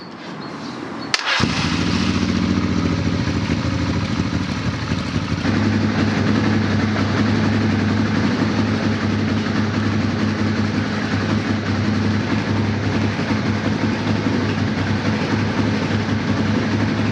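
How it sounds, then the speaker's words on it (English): A Honda Transalp motorcycle engine cranks on its starter after a sharp click, then settles into a steady, loud mechanical drone with a low hum that holds to the end, no talking. "maybe a couple of seconds of getting the starter engine going won't melt everything."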